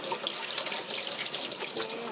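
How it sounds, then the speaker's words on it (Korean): Running tap water streams steadily into a sink as mushrooms are washed under it, a continuous bright splashing hiss with small fluctuations and no voices. "버섯은 흐르는 물에 깨끗이 씻어 주시고요"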